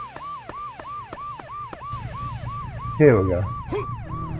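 A police siren in a PS3 video game wails in a steady, rapidly repeating up-and-down cycle, loud and clear throughout, while someone briefly speaks over it.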